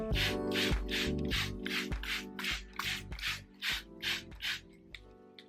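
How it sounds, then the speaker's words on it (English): Hands rubbing hair product into hair, close and loud rhythmic rasping strokes, about a dozen in steady succession, with no talking. "So I'm gonna just thoroughly rub this into my hair."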